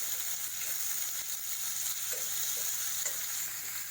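Sliced onion and capsicum are stir-fried in a pan for a veg spring roll filling, giving a steady, close hiss of sizzling oil with a few soft scrapes of stirring and no voices.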